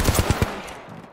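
Rapid automatic gunfire in the video game Apex Legends, a quick close burst of about five punchy shots fading into a short tail.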